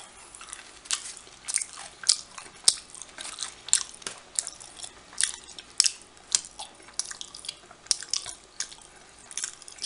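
Cucumber-wrapped trout sushi rolls chewed close to the mic, a steady series of crisp, wet crunches and moist bites repeating throughout, with no talking.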